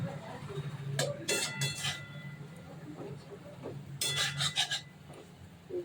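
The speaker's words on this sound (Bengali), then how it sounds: "আর এটাকে নাড়তে নাড়তে একদম জুড়ো জুড়ো হয়ে যাবে।" A pot of dal chachchari with kochu shak and chickpeas is stirred, giving bursts of close scraping and rasping against the pot over a low background hum.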